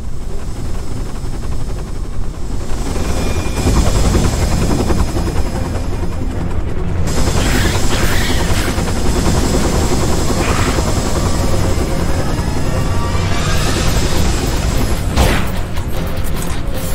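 A helicopter in the video game Dirge of Cerberus roars loud and continuous, its dense rotor and engine din steady throughout, with brief sharp metallic impacts and bursts breaking in near the middle and end.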